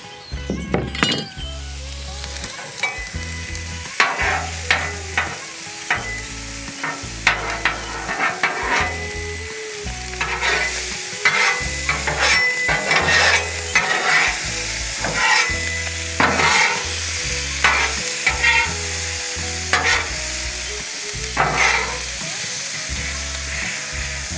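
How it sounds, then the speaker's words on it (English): Peppers and onions fry on a Blackstone griddle with a steady close sizzle, punctuated by frequent rhythmic spatula clanks and scrapes against the metal surface, no talking. "and now we want a little peppers and onions to go with our potatoes"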